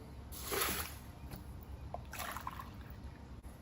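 Water is poured from a cup to mix with urea, making a soft splashing pour and a second shorter one, with trickles and drips between them, close and fairly quiet.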